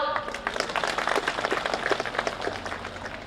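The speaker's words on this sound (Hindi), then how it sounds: "अगर सही है तो ताली बजाओ।" Audience at a public event in Assam clapping on request, a brief patter of many hands heard at moderate distance, dense and fairly even for a few seconds.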